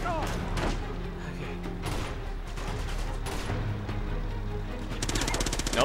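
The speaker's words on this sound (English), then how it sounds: "It's auto turret." Rapid automatic gunfire from an auto turret in the Uncharted 2 action game, bursts of loud cracks repeating through the scene with thumps and impacts, ending in a fast rattling volley.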